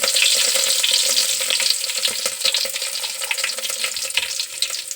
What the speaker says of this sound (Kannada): ಈಗ ಎಣ್ಣೆ ಕಾದೈತಿ, ಸ್ವಲ್ಪ ಸಾಸಿವೆ ಹಾಕ್ಕೊತೀನಿ. ಸಾಸಿವೆ ಸಿಡಿದ್ಮೇಲೆ ಸ್ವಲ್ಪ ಕರಿಬೇವು ಹಾಕ್ಕೊತೀನಿ.